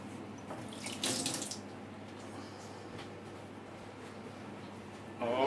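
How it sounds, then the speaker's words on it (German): Hands washed under a running kitchen tap during vegan broccoli patty preparation: a steady stream of water with a louder splash near the start and another burst at the end, no talking. "Einmal kurz die Hände waschen."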